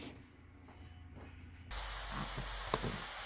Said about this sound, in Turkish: doğradığım pırasamı biraz kavuracağım